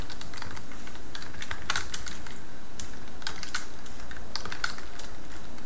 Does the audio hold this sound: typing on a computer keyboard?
yes